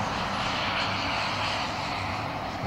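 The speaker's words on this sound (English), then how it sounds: "S16 is taking off." An F-16 fighter jet takes off, producing a steady, loud, wide-band engine roar with a hissing upper edge that holds constant for the whole stretch, with no voices.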